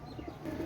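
A pair of Miyanaj Salara Teddy Baby pigeons coo softly and close up in a short, low burst with no voices.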